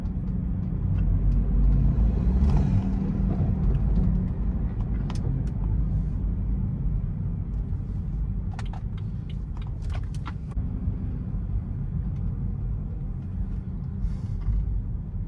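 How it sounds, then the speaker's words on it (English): A car with a VRSF intercooler and stage 1 tune accelerates gently, its engine a steady low rumble with several sharp exhaust pops and crackles scattered through the run. "I'm gonna do a slight acceleration. Sounds like gunshots though."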